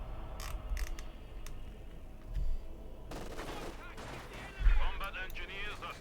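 Battlefield din from Company of Heroes 2, with rattling gunfire and heavy low booms of artillery over a steady rumble, plus bursts of dense crackling fire in the second half, all with no one talking.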